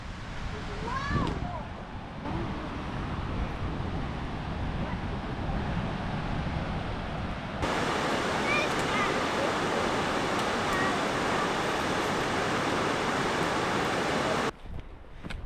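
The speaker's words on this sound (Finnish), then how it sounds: "oliko tuo vesiputous hieno?" Waterfall in Lemmenjoki National Park on a Finnish Lapland hike, a steady broadband roar of rushing water, close and continuous, growing louder partway through before cutting off, with wind buffeting the microphone.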